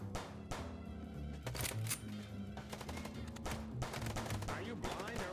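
Rapid bursts of gunfire during a car chase shootout in the video game Chicken Police, sharp cracks and short volleys repeating over a driving music bed, fairly quiet overall.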